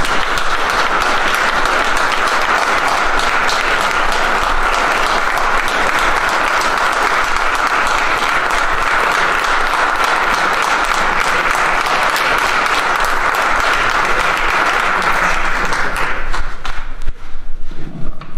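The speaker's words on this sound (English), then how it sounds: "Let's give Quentin a big round of applause" Loud, sustained audience applause from a large crowd fills the whole stretch with dense clapping, starting to thin out near the end.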